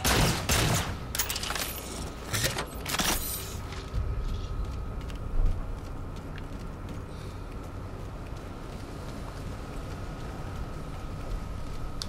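Rifle fire in the video game Halo 4, a burst of several loud close shots in the first few seconds, then a steady bed of distant combat noise.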